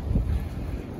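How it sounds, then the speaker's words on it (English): Low, rumbling gusts of wind buffeting the microphone, steady and close throughout the short stretch. "You can see it's windy as can be."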